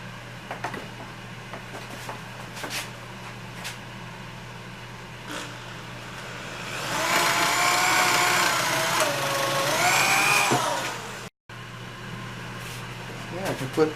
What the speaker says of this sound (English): I put a clamp on that and do some drilling.